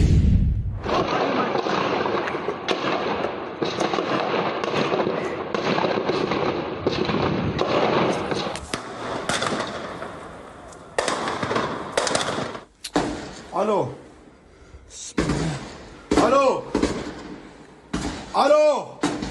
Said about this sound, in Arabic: ويظهر في المشاهد لحظة تفجير المنزل قبل دخول الجنود إليه